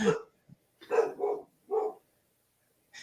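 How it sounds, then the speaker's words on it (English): A dog barks in three or four sharp, separate bursts, close and clear, in an otherwise quiet indoor space. "Of course the dog's barking."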